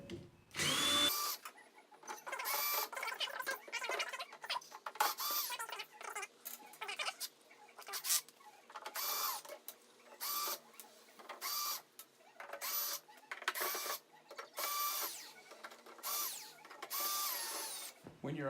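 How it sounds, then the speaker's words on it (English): A cordless power drill backs screws out of the rear panel of a clothes dryer, short whirring bursts repeating in quick stop-start succession, close and clear against near silence. "So we'll just rip these screws off."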